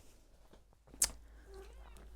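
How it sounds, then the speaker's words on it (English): A house cat gives a single short meow, faint against a quiet indoor background on a snowy day. "walked by the cat, and that's what you heard"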